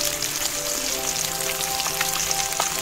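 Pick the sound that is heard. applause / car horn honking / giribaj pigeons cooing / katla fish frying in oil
katla fish frying in oil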